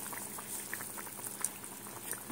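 A broccoli and potato curry boils in a pan with a soft, continuous bubbling and faint popping, heard alone at low volume.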